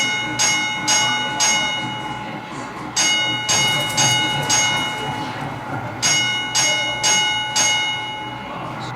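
A railway signal bell at a Great Western Railway signal box rings three sets of four sharp, metallic strikes with short gaps between sets, loud and near against a steady hum.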